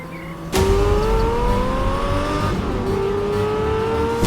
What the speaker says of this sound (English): The hills are alive with the sound of a Murcielago V12.